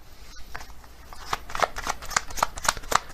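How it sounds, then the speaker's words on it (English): A deck of tarot cards shuffled by hand: quiet rustling at first, then a run of crisp, evenly spaced card riffles and slaps close to the microphone, with no talking. "Actually, I'm going to get another card from this deck."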